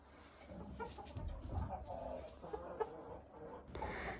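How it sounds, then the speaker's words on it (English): Incubator-hatched chickens on a farm cluck softly and intermittently in a pen, faint and somewhat distant against low background noise. "These are all chickens that I incubated."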